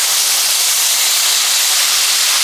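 Bell pepper, onion, garlic and beer simmer in a pan, giving a steady, close, even hiss with no pauses and no voices.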